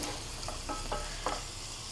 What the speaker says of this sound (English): Now you can see it's already nicely frying